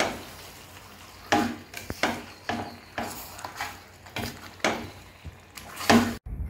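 Chicken being stirred with masala paste in a pan for Chettinadu chicken gravy, a series of irregular scraping and clanking strokes of a spoon against the pan, close and fairly loud, with no talking.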